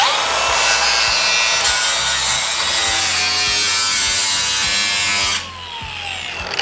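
A power tool cuts steadily through thin, rusted roof metal on a Highboy, producing a loud, close, continuous high whine with gritty rasping that ends abruptly near the finish, then drops to a quieter hum.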